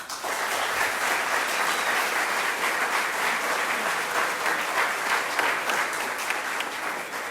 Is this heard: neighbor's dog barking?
no